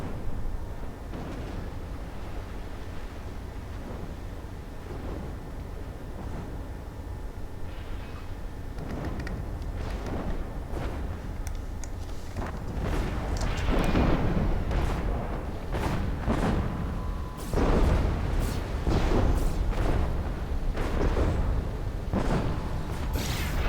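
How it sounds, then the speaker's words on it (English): Uber Cannon shells from the Stratera balance mod strike water in a strategy game, a run of loud booming explosive impacts that grows denser and heavier partway through, over a steady low rumble. "What the heck is up with the Uber Cannon hitting water?"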